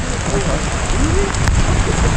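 Heavy monsoon rain pours steadily in Malaysia, a dense, loud roar of drops on wet surfaces with no break, while faint murmurs and a brief distant rumble sit under the downpour.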